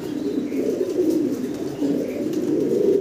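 A pair of German Beauty Homer pigeons coo in low, rolling murmurs that carry steadily through the whole stretch, close by and moderately loud, with no talk.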